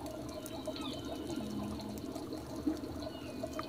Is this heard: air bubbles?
yes